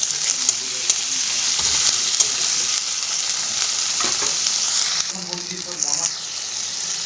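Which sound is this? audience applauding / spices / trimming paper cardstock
spices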